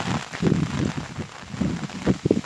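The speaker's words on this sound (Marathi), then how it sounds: "आज पाऊस खूप आहे पाहू शकता तुम्ही" Heavy monsoon rain pours over paddy fields in the Konkan countryside, a dense, close patter with uneven bursts of louder drumming throughout.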